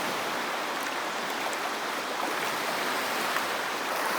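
A river runs across a sandy beach near Chapel Rock at Pictured Rocks on Lake Superior, giving a steady, broad rush of flowing water that holds evenly at moderate level throughout, with no voices.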